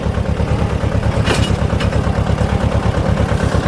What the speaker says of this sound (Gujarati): આજે ટ્રેક્ટર લઈને હું જઈ રહ્યો છું દિવેલા કટિંગ કરવા માટે